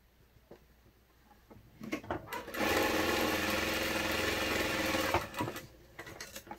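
A sewing machine runs a seam on a backpack, backstitching at the start and end: a steady, close mechanical whir for about two and a half seconds, with short bursts of stitching before and after.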